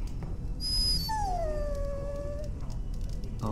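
A dog whines in Dragon Age: Origins, a high, drawn-out whimper that bends upward and then glides down, standing alone over a low, steady game ambience.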